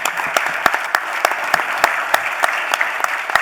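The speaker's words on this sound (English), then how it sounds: "Can we give our panelists a round of applause?" An audience at an industry conference panel gives the panelists a short round of applause. The clapping is loud and close, with many distinct hand claps in a brisk, continuous burst.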